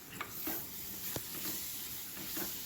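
Tomatoes and salt fry in a pan for a fish curry, with a steady faint sizzle and a few soft scraping stirs, no voices.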